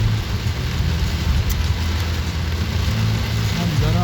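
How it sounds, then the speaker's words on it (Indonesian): Heavy rain drums steadily on a car moving slowly through Malang, a dense constant wash of water hiss over a low engine and road rumble that never lets up. "Hujan masih sangat deras, pandangan terbatas, terpaksa kita pelan-pelan dulu."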